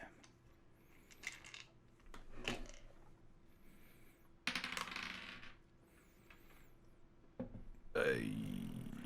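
Dice being rolled on a table during a tabletop role-playing session, several sharp clattering bursts with pauses between them, close and fairly clear, with some voice sounds in the mix.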